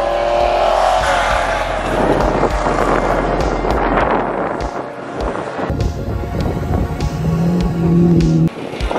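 Lexus IS300 with a 2JZ engine and big turbo driving past at a car cruise and track day in Perry, Oklahoma, its loud engine roaring and surging close by, then easing as other vehicle sounds take over.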